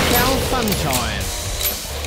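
Mechanical clacks and ratcheting clicks of a gun being loaded with a fresh magazine in the shooter game Killing Floor, short and close, with a voice and other game sounds partly over it.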